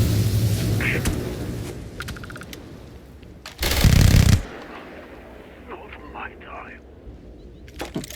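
One loud, close gunshot blast from a gun in the space role-playing game Starfield booms out in the middle of background game sound, with a voice talking faintly around it.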